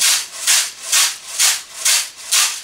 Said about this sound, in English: What makes this sound is a seed of one specific peel we call ugboboko.